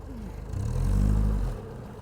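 An MG Midget drives past and revs, the engine note swelling into a loud, rising whir at mid-clip and then easing back down, close by and without voices.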